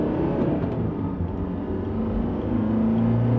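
A Mercedes 123 diesel car accelerates up to about 50, giving a steady, loud rumbling engine drone with a low hum building slightly in pitch near the end.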